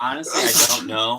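A person sneezes once sharply in the middle of an indoor conversation, with speech just before and after it.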